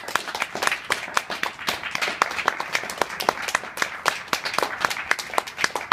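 An audience applauds after a poetry reading, a small crowd clapping steadily and continuously at close range.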